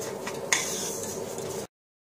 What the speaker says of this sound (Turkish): Bekledikten sonra karıştırıyorum.